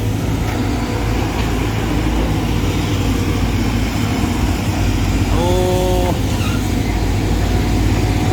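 A Hitachi six-cylinder backhoe excavator engine runs as a steady, loud diesel drone throughout, with a brief higher whine partway through over constant outdoor machinery noise.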